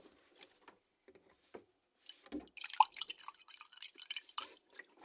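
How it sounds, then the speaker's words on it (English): Water poured into two cups indoors: a few faint, scattered drips at first, then a closer, livelier trickle and splash as the pour begins, with no one speaking. "we will now pour water in the cups."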